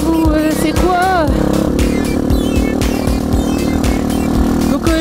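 An old, struggling motorcycle engine runs loud and close for the whole stretch, a rough, uneven chug with irregular rhythmic pulses and brief revs, with no talk over it.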